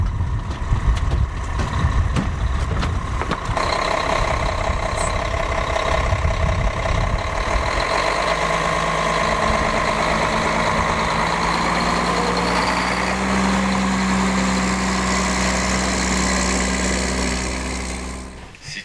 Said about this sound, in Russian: сейчас садимся в ратрак